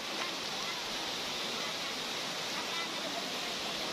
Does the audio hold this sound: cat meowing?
no